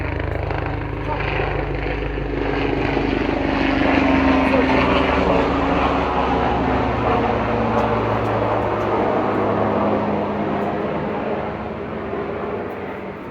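A helicopter flies overhead outdoors, giving a broad rumbling drone that swells to a peak midway and then slowly fades. The drone is loud and steady, and no one speaks over it.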